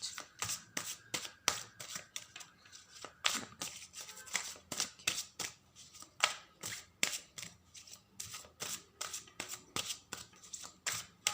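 Tarot cards being shuffled by hand to draw one card, a close, rapid run of crisp riffling flicks repeating in quick bursts throughout, no talk.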